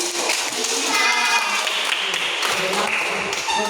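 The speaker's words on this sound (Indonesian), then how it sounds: "berikan tepuk tangan untuk si" Steady clapping from a group of people, dense and continuous, with a few scattered voices and faint chatter mixed in.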